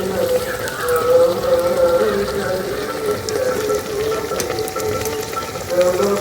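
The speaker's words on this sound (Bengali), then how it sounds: "এইভাবে লাল লাল করে ভেজে নিয়েছি।" Beguni, battered eggplant fritters, deep-frying in hot oil, a loud continuous crackling bubble like rain on a surface, steady throughout and close.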